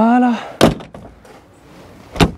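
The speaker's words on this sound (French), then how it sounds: "il faut les claquer les portes" Doors of a 2025 Mercedes G-Class G580 electric SUV slammed shut, two sharp loud thuds about one and a half seconds apart, with a brief spoken word just before the first.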